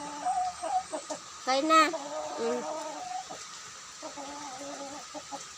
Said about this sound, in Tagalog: Nakakatuwa itong alaga kong manok guys.